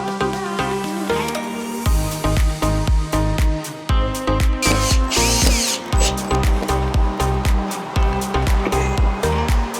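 A power tool grinds off protruding screw tips during construction of a false floor for a Nissan Y62, repeated loud motor bursts pulsing in a fast rhythm, close and continuous.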